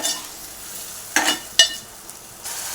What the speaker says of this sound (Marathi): परतून घेऊया मीडियम गॅसवरच परतायचं